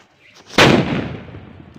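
A Golden Lakshmi firecracker goes off outdoors for Diwali, giving a single sharp, loud bang after a quiet moment, followed by a decaying crackling rumble.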